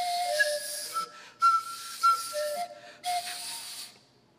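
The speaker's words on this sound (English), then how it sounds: "what will happen if I blow across the top of these pan pipes?" Breath blown across the top of pan pipes gives breathy, airy whistling tones in short separate bursts, each a steady pitch that changes from blow to blow, fairly quiet and close with no talk.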